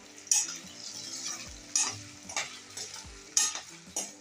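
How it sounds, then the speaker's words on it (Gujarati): Potatoes fry in a pan over a low gas flame under a soft sizzle, while a spoon scrapes and stirs them in repeated, uneven strokes. "આપણે આ રીતના બટેકાને હલાવીને 5 મિનિટ ધીમા ગેસે તળવા દેશું"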